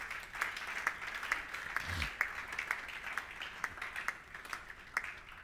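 A church congregation applauds in steady rhythmic clapping, moderately loud and sustained, with a low voice briefly underneath.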